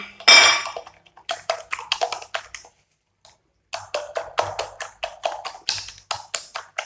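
Beaten eggs being mixed with red chili, salt and dried coriander in a bowl, heard as a close run of quick taps and scrapes that pause briefly, then resume in a steady rhythm.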